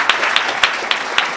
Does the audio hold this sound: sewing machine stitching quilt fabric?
no